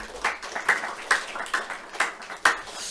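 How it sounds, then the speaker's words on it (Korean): Sparse, separate hand claps from a church congregation during a Sunday service, each sharp clap standing apart with short gaps between them, fairly faint and with no talking over them. "우리 서로에게 한번 사랑의 축복의 격려의 박수 한번 쳐줄까요?"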